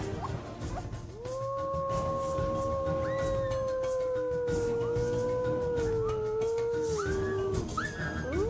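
Several wolves howl together in long, overlapping, wavering tones, sustained and fairly close, with no talking.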